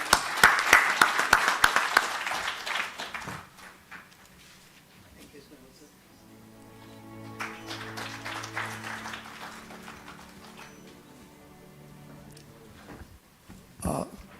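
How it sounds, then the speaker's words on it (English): At a management convention, audience applause for the speakers rises in a brisk burst of claps at the start and quickly dies away, followed by quieter room sounds and a low hum, with scattered claps near the close. "So let us give them all a round of applause."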